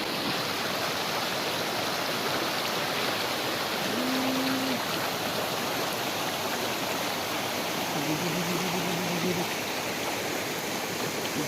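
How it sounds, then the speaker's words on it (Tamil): Waterfall hidden in bushes near Kadayam, Tenkasi, a steady broadband rush of falling water filling the whole clip, continuous and fairly close, with a couple of faint brief tones in the background. "இந்த புதருக்குள்ள தான் அந்த சூப்பரான அருவி இருக்கு."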